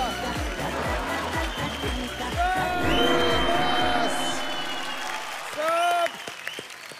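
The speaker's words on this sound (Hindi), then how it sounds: "इनके ठुमकों के लिए तालियां।" Studio audience on a Zee TV comedy game show applauds and cheers after a dance, steady loud clapping mixed with whoops and music, a voice speaking over it briefly.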